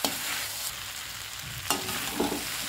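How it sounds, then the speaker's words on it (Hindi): Leftover roti noodles and fresh coriander are stirred in a hot pan on a gas stove, with close scraping strokes over a steady sizzle and a couple of sharper spoon clanks. "थोड़ा सा हरा धनिया डाल देते हैं और इसको भी बढ़िया से मिक्स कर देंगे।"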